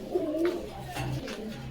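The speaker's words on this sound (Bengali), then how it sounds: "রাজশাহী জাক কবুতর" Rajshahi breed pigeons cooing at a bird market, a few deep throaty coos close by over a busy background murmur.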